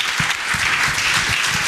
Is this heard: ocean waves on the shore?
no